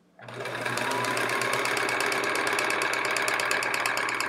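A vintage sewing machine stitches the back of a chevron quilt, running as a steady, close, loud whir with a rapid mechanical patter that starts abruptly and continues unbroken.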